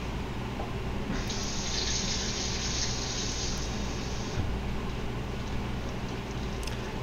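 Steady rush of water pouring for a few seconds into mapo tofu sauce in a pan, a broad hiss over low kitchen hum, then stopping.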